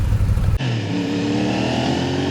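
A CFMOTO 450SR sport motorcycle engine revving hard and loud, then settling into a steady high drone with a strong rumbling low end.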